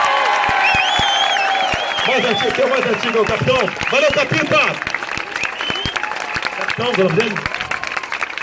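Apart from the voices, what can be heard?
crowd applause for the military police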